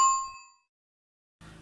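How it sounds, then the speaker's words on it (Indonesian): A single bright notification bell ding rings out and decays over about half a second, followed by silence and then a brief burst of another sound. "nyalakan lonceng notifikasinya"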